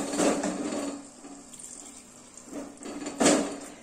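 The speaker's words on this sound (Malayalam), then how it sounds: "ഇനി നമുക്ക് ഇതിലോട്ട് കുറച്ച് കുറച്ച് വെള്ളം ഒഴിച്ചു കൊടുക്കാം" Water poured in small amounts into a cooking pot of curry, two short splashing bursts separated by a quieter gap, close by and with no talking.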